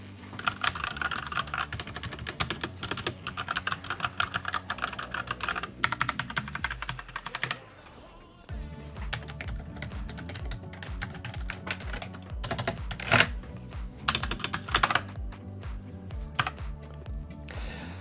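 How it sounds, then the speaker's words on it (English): A full-sized X-Falcon Z88 mechanical RGB keyboard is typed on at close range, with steady streams of crisp keystroke clicks, a brief lull midway, then renewed, slightly louder bursts of typing. "this has been the X-Falcon Z88 full-sized mechanical RGB keyboard"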